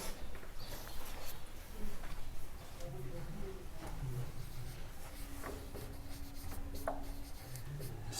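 Pen scratches on paper while a maths problem is worked by hand, with soft, close, irregular strokes and rubbing continuing throughout and no voice over them.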